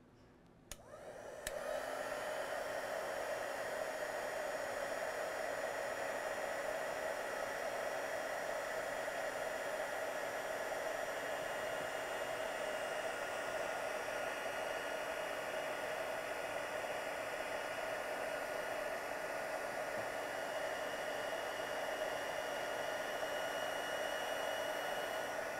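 A heat tool blows steadily for the whole stretch, warming clear embossing powder on stamped images with a constant, loud, breathy whoosh and no talking.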